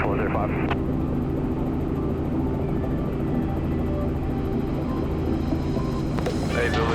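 Robinson R44 helicopter in flight over Sydney Harbour, a steady loud rotor and engine drone from inside the cabin with radio voices talking over it.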